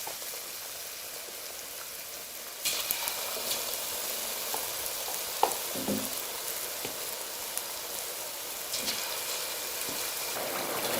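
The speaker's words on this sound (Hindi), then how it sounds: "अब जो बाकी के पकौड़े हैं उनको भी मैं फ्राई कर लेती हूँ।" Potato pakoras deep-frying in hot oil give a steady, close sizzle that briefly grows busier partway through, with a few sharp pops and crackles.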